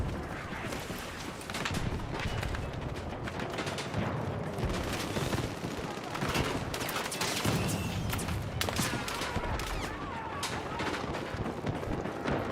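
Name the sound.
submachine gun fire in Battlefield 6 video game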